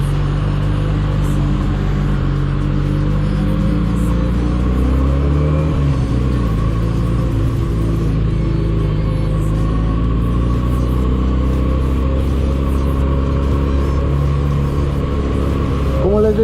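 A 2020 Benelli 302S motorcycle engine and exhaust drone loudly and continuously while riding, the pitch rising and falling as the rider shifts and changes speed, close to the microphone.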